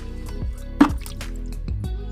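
Water poured into homemade liquid plant fertilizer made with beetroot and aloe vera, a short splash and drip standing out briefly over quieter wet trickling.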